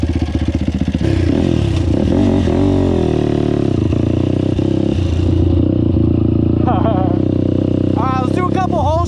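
A 2005 Honda TRX450R quad's engine runs loud and close, a dense steady drone that rises and falls in pitch, with sharper revving sweeps near the end.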